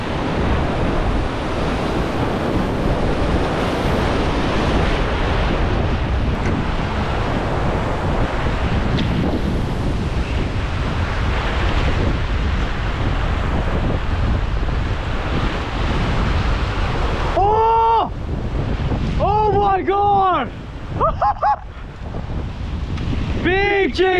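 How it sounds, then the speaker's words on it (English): Strong wind on a tropical beach buffets the microphone in a loud, rough roar that persists throughout, with surf-like rushing underneath and a few brief tonal squeaks near the end. "It's kind of windy."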